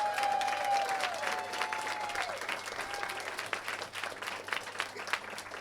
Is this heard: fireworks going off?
no